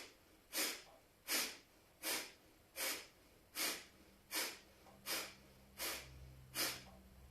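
Rapid, forceful nasal exhalations of Kapalabhati skull-shining yoga breathing, nine sharp puffs spaced evenly under a second apart, close and clear with a faint low hum underneath.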